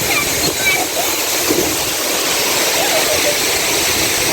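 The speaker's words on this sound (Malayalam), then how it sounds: "ഇവിടെ എല്ലാം വെള്ളം തെറിക്കുന്നുണ്ട്" Khor Fakkan waterfall in the UAE roars as a loud, close, continuous rush of spraying and splashing water with no break.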